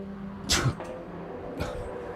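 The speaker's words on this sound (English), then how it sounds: "I knew the sneeze was coming." A man sneezes once, sharply, during motorsport race commentary, followed by a fainter breathy burst about a second later, against quiet background noise.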